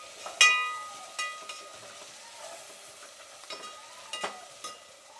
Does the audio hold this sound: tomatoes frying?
yes